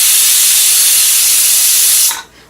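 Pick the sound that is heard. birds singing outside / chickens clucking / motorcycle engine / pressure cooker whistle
pressure cooker whistle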